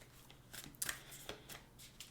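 Tarot cards are shuffled by hand in a quiet room, giving a few soft, quick riffling and flicking bursts with no talking.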